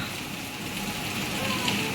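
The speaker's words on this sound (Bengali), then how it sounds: "কিভাবে বৃষ্টি হচ্ছে রাস্তায় জল জমে গেছে" Steady, dense hiss of heavy rain pouring down at night during Cyclone Remal, continuous and fairly close, with no distinct drops standing out; water pooling on the road.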